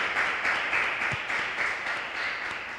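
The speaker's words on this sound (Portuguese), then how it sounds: "uma salva de palmas para ela" An audience at a church gathering applauds a psychologist, a dense, steady wash of many hands clapping that holds for a few seconds and tapers slightly.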